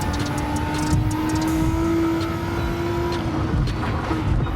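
A turbocharged Nissan GT-R R35 Nismo in Gran Turismo 7 holds a loud, sustained engine drone close up, its steady pitch rising slightly as it revs, without any talk.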